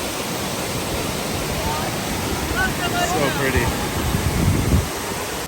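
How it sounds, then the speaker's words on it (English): A mountain waterfall in Colorado pours in a steady broadband rush, with some wind buffeting the microphone and a brief quiet word spoken. "Got a beautiful waterfall coming right out of the mountains here."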